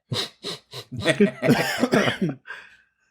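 A burst of harsh, repeated coughing up close, three quick coughs then a longer raspy fit, ending in a wheezy breath.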